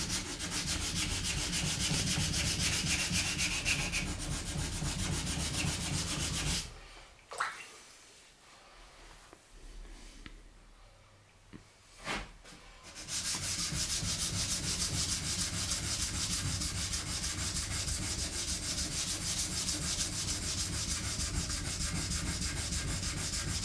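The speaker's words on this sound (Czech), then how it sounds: "Ten papír je už hladký, klouže to, posunu si to tak, abych brousil na ostrém zrnu." Sandpaper is rubbed back and forth along a katana blade in a steady, rhythmic scraping stroke that stops for a few seconds midway, with faint handling noises, then resumes.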